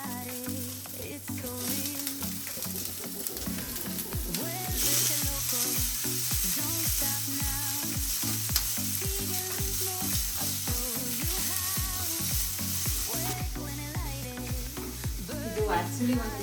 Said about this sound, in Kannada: ನೆಕ್ಸ್ಟು ಇವಾಗ ಈರುಳ್ಳಿ ಹಾಕ್ತೀನಿ.